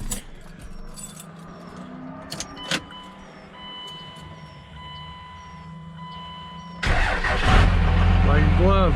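A Cummins 24v diesel truck engine starts, with the cab first quiet apart from warning chimes and light clicks, then a loud cranking catch into a heavy, rumbling diesel idle close by.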